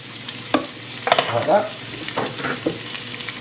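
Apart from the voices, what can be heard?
vegetables frying and being stirred in pan for carrot soup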